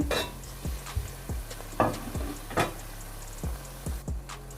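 Finely chopped tomatoes added to onions in a sizzling pan, with scraping and stirring and several soft clattering knocks of a spoon against metal at uneven intervals.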